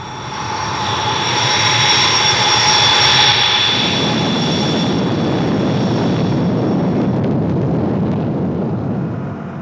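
Indian Air Force jet aircraft launching with a loud, sustained engine roar that swells to a peak and holds steady, accompanied by a high whine that fades as the rumble continues.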